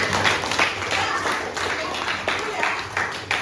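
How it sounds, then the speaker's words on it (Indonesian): Students in a sociology class clapping for a classmate named Diki, a brief even round of applause from a small group, fairly close and without talk. "tepuk tangan untuk Diki"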